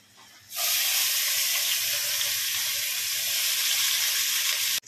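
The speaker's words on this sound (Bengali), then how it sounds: "একটু আমি হালকা দিচ্ছি কুচানো পেঁয়াজ" Chopped onion hitting hot oil with whole garam masala, bay leaf, cinnamon, cardamom and cloves: a sudden loud, steady sizzle that starts abruptly and holds, bright and close, with no talking.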